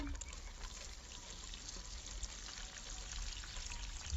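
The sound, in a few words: watering roses, radio play sound effect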